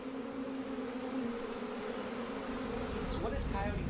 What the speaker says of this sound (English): You definitely have a full neck of bees.